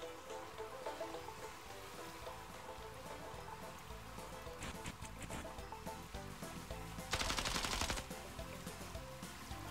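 Uzi fire in the VR shooter Dick Wilde 2, faint rapid shots mixed into a busy game soundscape with music, including a brief louder burst near the end.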